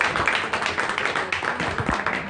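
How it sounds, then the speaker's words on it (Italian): Applause from a live audience at an informal coffee meetup, a steady dense patter of many hands clapping together for a couple of seconds, moderately loud with no voices over it. "un bel applauso per Emiliano"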